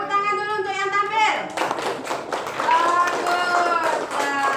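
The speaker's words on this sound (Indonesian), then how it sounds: "Tepuk tangan dulu untuk yang tampil." An audience applauds presenters at a class presentation, a dense burst of clapping that follows a sung or drawn-out voice and continues steadily to the end, with some voices mixed in.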